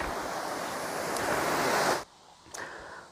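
Dhab Dhabi waterfall in Gurmitkal roars as a constant loud rush of falling water close by, cut off abruptly twice by short breaks in the sound.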